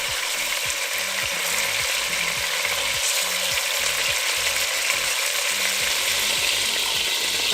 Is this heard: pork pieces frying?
yes